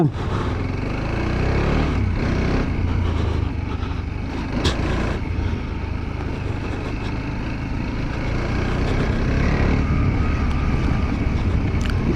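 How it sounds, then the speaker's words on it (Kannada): A TVS Apache RTX 300 motorcycle on an off-road rally track, its rear wheel spinning, gives a steady engine rumble under heavy wind buffeting for the whole stretch. "ರ್ಯಾಲಿ ಮೋಡಿಗೆ ಆದ ತಕ್ಷಣ ಹಿಂದ್ಗಡೆ ವೀಲ್ ಸ್ಪಿನ್ ಹೊಡೆಯೋದು ಹೆಂಗೆ ಗೊತ್ತಾಗ್ತಾ ಇದೆ ಗೊತ್ತಾ?"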